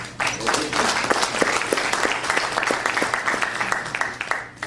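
An indoor lecture audience breaks into sustained applause, a dense, loud wash of many hands clapping that holds steady for several seconds before tapering off at the end.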